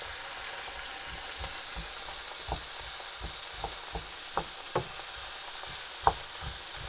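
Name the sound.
stirring sautéing vegetables for sausage casserole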